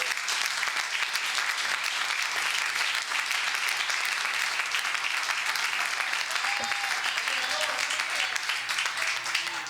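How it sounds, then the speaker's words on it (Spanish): Sustained, steady applause from a church congregation during a Spanish-language sermon, a dense wash of clapping holding at a constant level throughout, with faint voices mixed into the crowd. "Un aplauso, por favor."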